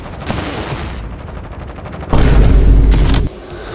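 Gunfire from a weapon in Modern Warfare at point-blank range, a loud burst of shots lasting about a second, coming after quieter, choppy game sounds.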